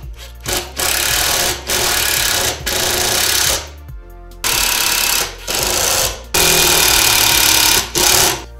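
A power driver tightens the grill screws on a RZR Stage 5 in a series of short, loud whirring bursts, about eight in all. The bursts come close together, with brief pauses between them.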